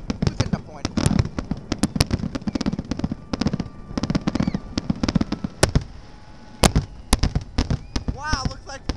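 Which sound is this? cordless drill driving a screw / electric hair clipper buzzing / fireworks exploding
fireworks exploding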